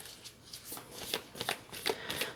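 Tarot cards shuffled by hand in a quick run of crisp riffling, papery bursts, close and fairly loud with no talking.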